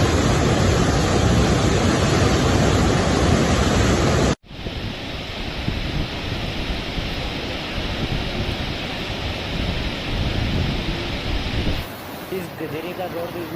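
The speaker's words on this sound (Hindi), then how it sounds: "ये काली नदी का रौद्र रूप आप देखिए, किस तरह काली अपना रौद्र रूप दिखा रही है" Roaring floodwater of the swollen Kali river rushes loudly beneath the Dharchula bridge after days of heavy mountain rain, a dense continuous torrent with wind buffeting the microphone, while a voice speaks over it.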